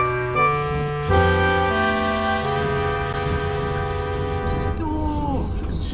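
Toy-style railway train setting off after coupling, with steady harmonic horn-like tones and a rolling mechanical rumble building over several seconds, a sliding whistle-like pitch bend near the end.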